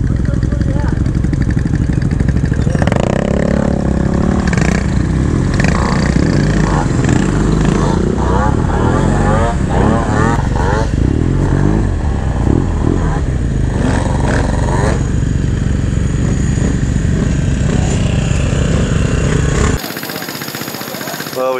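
Several Honda Ruckus scooters idling and revving together at a ferry rideout, a loud continuous buzzing engine drone with rising and falling throttle blips, people talking over it throughout.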